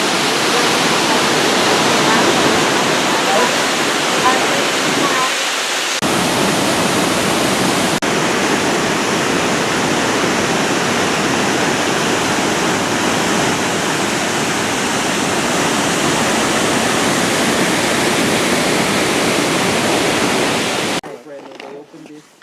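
Roaring rush of water from Angel River waterfall in Costa Rica, a dense, loud and steady broadband wash close by that holds constant for about twenty seconds before cutting off abruptly near the end.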